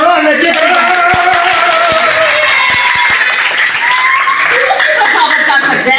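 Audience clapping at a Punjabi Pothwari stage show in Rawalpindi, with scattered claps and chuckles running under steady crowd noise and talk and singing voices throughout.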